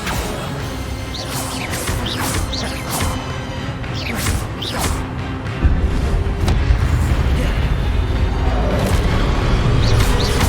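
Spellcasting in Hogwarts Legacy on PS5 unleashes a rapid run of magical bursts: whooshes, cracks and deep booms land one after another, then a heavier rumbling blast takes over midway and persists.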